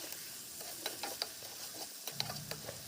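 Singh fish curry being stirred in a pan: a soft, steady sizzle with faint spatula scrapes and light taps, quiet and close.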